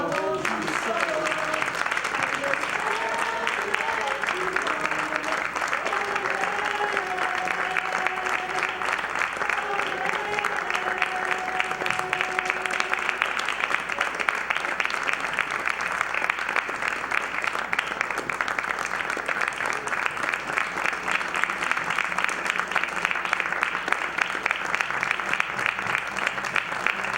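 A live audience applauds a musician in a steady, dense wash of clapping that holds for nearly half a minute, under lingering sung notes at the start that fade out.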